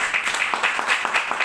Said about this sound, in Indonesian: Tepukan untuk Elken produk.